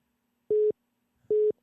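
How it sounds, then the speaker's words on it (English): A phone's call-waiting tone sounds during a call: two short, identical beeps spaced under a second apart, fairly quiet against a silent background. "Got a phone call."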